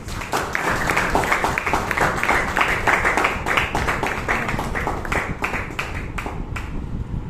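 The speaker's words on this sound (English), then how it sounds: "Please give her a round of applause." Audience applause at a Toastmasters club meeting in Bangalore, a lively close burst of many hands clapping that thins out toward the end.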